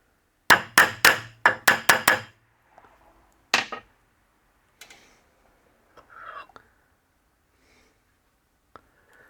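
A hammer swages rivets on a drive pulley clutch disc: a rapid run of about eight sharp metallic strikes, a single blow a moment later, then scattered faint taps and handling noises.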